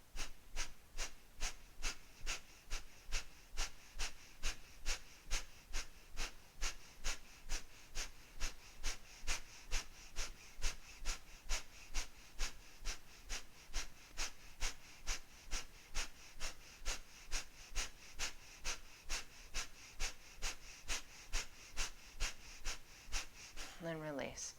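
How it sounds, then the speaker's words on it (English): Rapid rhythmic breathing during a breathwork exercise, dozens of short, sharp breaths repeating at a steady quick pace throughout, close and clear. "we'll take a full breath, inhaling, exhaling"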